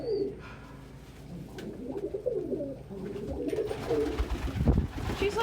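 Pet pigeons or doves coo repeatedly indoors, soft rolling calls close to the mic, with light rustling and a few faint background noises between the coos.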